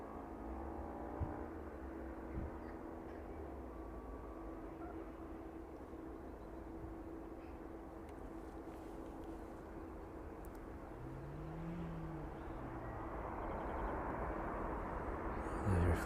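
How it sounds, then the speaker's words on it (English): A Boeing 767 using reverse thrust on landing at East Midlands Airport, runway 27, makes a distant, steady low roar that swells toward the end. "The reverse thrust is very loud on the 767. Pick that up in the distance there."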